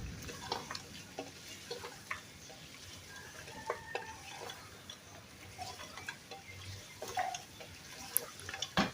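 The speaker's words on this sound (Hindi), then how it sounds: "चम्मच चलाते रहेंगे, अच्छे से इसको भुनाई करेंगे।" A spoon stirs mutton trotters (paya) as they roast in a pan, making soft, scattered scrapes and clicks over a faint, quiet sizzle, with no voices.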